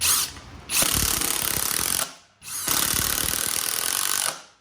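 SKIL PWRCore 20 impact driver driving 3 inch T25 deck screws, two loud sustained bursts of rapid hammering impacts separated by a short pause, close and alone.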